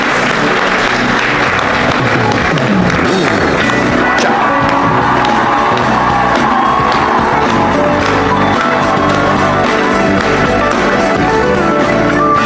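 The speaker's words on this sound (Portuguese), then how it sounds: "Para o Senhor Jesus, uma linda salva de palmas," A church congregation applauds for Jesus during a worship service, with sustained loud clapping mixed with cheers and shouts filling the hall.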